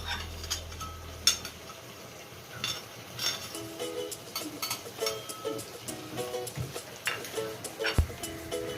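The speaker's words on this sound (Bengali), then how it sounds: "কড়াইতে দেখো কচুর শাকটা অনেকক্ষণ নাড়ানোর পরে এবার মাছের মাথাগুলো ও দিয়ে দিল।" Taro greens being stirred in a wok with hilsa fish heads added, giving repeated metallic clinks and scrapes of a spatula against the pan over a low cooking hiss, close by with no talk.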